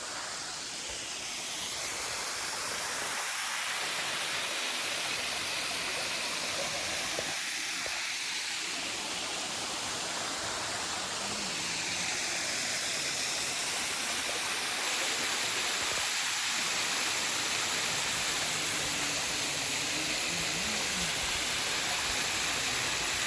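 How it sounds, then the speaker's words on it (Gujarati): A loud, continuous roar of Bujjaro Waterfall near Danta fills the whole stretch, steady and broadband, with no talking. "હાલ અમે આ ધોધ આગળ ઊભા છીએ અને આપ નજારો જોઈ શકો છો"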